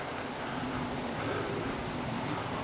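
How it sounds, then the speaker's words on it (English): Steady rain falls outdoors in a dense, even hiss of drops, continuous and fairly close, with no one speaking. "It's raining."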